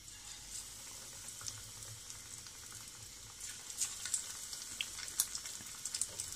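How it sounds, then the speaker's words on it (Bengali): Chicken pieces frying in hot oil in a pan over medium heat for chicken Manchurian, a faint crackle that grows into livelier popping and spitting in the second half. "এখন আমরা মুরগির মাংসটাকে ফ্রাই করে নিব।"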